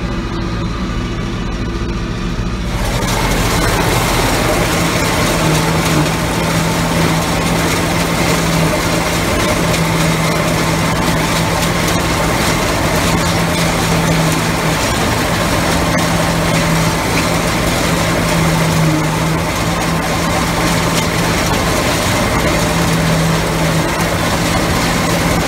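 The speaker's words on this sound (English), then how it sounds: "you can hear what an Allis Chalmers combine sounds like when it's running" An Allis Chalmers AC 72 combine engine starts up and runs loud and steady, a dense continuous mechanical roar with a constant droning hum that holds for the length of the recording.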